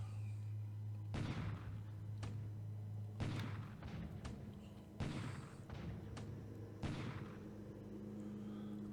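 Bombardment of Iba in a WWII strategy game set in December 1941: four heavy booming blasts at roughly even intervals, each a loud broadband thud with rumbling decay, over a steady low game hum, with no talking.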